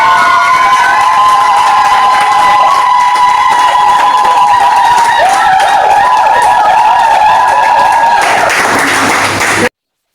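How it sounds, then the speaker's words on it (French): Wedding guests in Tonla, Diégonéfla cheer and applaud for a long stretch, a loud dense wash of clapping and shouts that holds steady for about ten seconds and then cuts off abruptly. "que nous recevons par des acclamations."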